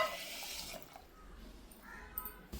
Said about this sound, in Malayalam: ഒരു ഗ്ലാസ് വെള്ളം എടുത്ത് നമുക്കിതിലേക്ക് ഒഴിച്ചു